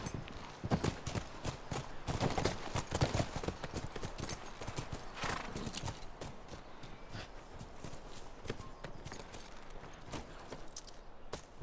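Several horses gallop in the video game The Last of Us, a rapid, steady clatter of hooves with occasional faint whinnies, continuing throughout at moderate volume.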